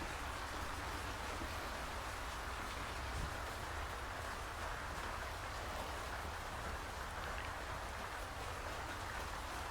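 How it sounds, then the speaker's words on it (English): Steady rain pours down in an unbroken hiss in the sailing video game Sailwind, soft and even throughout with no other sounds standing out. "Rain's really starting to pour down here."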